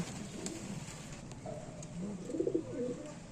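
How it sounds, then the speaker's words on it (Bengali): Pigeons kept for sale as top-quality flying birds coo softly in low, rounded calls, repeated a few times and swelling near the end over a quiet background. "তো টপ কোয়ালিটির পায়রা আছে এগুলো"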